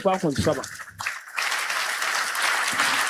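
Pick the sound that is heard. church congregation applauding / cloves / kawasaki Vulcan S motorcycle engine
church congregation applauding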